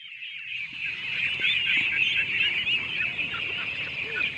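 A group of pet ducklings on a small farm, peeping and chirping continuously together in a busy, high-pitched chorus that is close and fairly loud.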